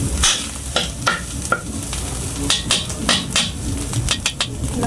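Meat browns in a frying pan for a New Year feast, a crackling sizzle broken by repeated scraping and knocking strokes of a spatula against the pan, close and fairly loud, with no talking.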